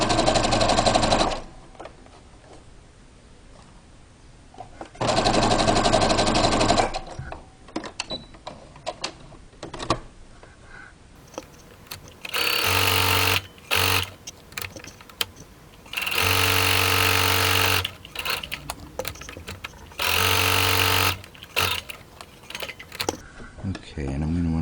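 A sewing machine stitches a fabric face mask in several loud bursts of rapid mechanical whirring. Brief pauses and clicks separate the bursts, and some stretches include short backstitching runs.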